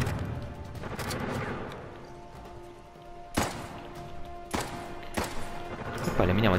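A rocket launcher fires at enemies in Uncharted: The Lost Legacy: a few sharp, loud blasts land at uneven intervals over a low, humming game ambience.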